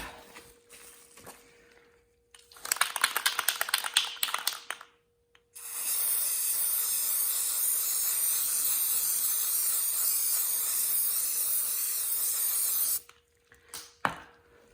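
Universal Bonding Primer sprays from an aerosol can in a short burst, then one long steady loud hiss lasting about seven seconds, close by, with a few rattles and taps before and after.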